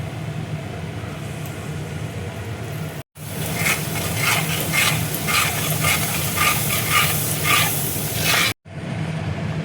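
Ginger frying in a pan with yogurt added over a low gas flame, a close continuous hiss and sputter that swells with faint bubbling pulses, cut by two brief silent gaps, with no voices.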